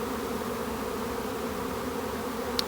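Bees hum continuously around an opened hive during a spring inspection with smoke, a dense, steady, close drone without pause.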